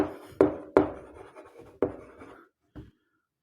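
A pen scratches across a board during a physics lesson, in several short, sharp strokes with brief pauses between them.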